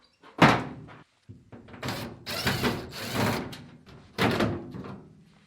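A car door trim panel is pried and pulled off during a latch install, with a sharp pop, then a series of clunks, thumps and plastic rattles as the panel comes free, close-up.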